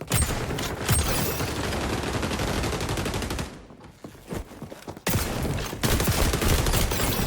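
Dense, rapid gunfire rattles loudly in XDefiant, including shotgun blasts, with a brief lull in the middle before the heavy shooting resumes.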